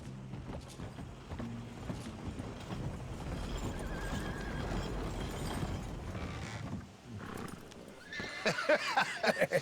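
A horse in Red Dead Redemption 2 whinnies and snorts with clip-clopping hooves, followed by a burst of higher neighing near the end, set against a soft background wash.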